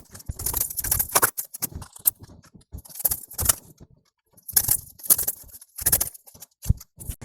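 Tarot cards are shuffled in repeated crisp bursts of riffling and slapping, close and moderately loud, with short pauses between rounds and no voices.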